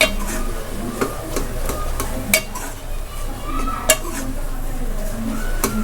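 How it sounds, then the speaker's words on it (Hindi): A spoon scrapes and presses eggplant in a pan, mashing it for baingan bharta, with irregular soft taps and clinks over a low sizzling background. "चम्मच से इसे दबाएंगे। अच्छी तरह से इसको घोट लेंगे।"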